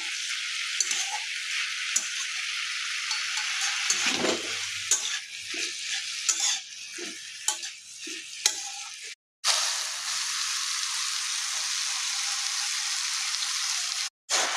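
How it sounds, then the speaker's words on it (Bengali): Winter vegetables, spinach and lentil dumplings (bori) cook in a pan with a steady bright sizzle, broken by intermittent stirring scrapes and a couple of brief silent gaps. "আমি সবজিটা একটু নেড়ে দিচ্ছি"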